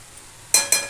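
A ladle scrapes twice against a pan while frying meat is stirred for a Telangana fry, two quick clinking strokes over a faint background sizzle.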